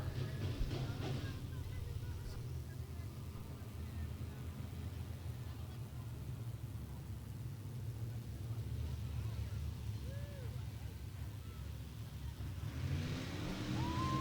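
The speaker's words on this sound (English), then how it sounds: "Going green flag racing out of turn number 4" Race cars accelerating as the green flag drops at Beckley Motor Speedway, a steady broad engine roar from the pack coming out of turn four, continuous and moderately distant, with an announcer talking over it.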